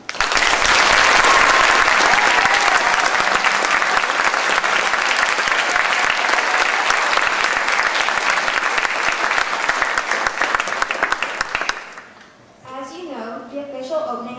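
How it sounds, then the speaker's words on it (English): An audience at a live song-and-dance show breaks into enthusiastic applause, a loud, dense clapping that holds steady for about twelve seconds before fading out as a voice begins speaking. "Please join me in giving all who contribute an enthusiastic round of applause."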